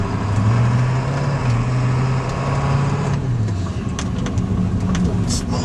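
A Power Stroke 3/4 ton truck drives at about 25 mph, its engine giving a steady, loud low drone with a shifting tone and road noise, while people talk over it.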